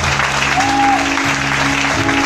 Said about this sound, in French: Vous pouvez vous acclamer.